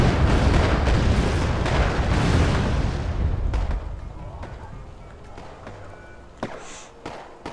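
Battlefield explosions and gunfire from the strategy game Wargame: AirLand Battle, with Leopard tanks and Panzer Grenadiers under attack: a loud rumbling blast fades into scattered distant booms and sharp shots.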